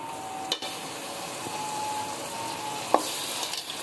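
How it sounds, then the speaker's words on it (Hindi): Soft, steady frying sizzle as cumin and ginger garlic paste are stirred in a pan for a beef aloo keema, with a couple of brief spoon clinks against the pan, no talking. "मिक्स कर लेंगे इसे। 1 चम्मच लहसुन अदरक का पेस्ट डालेंगे।"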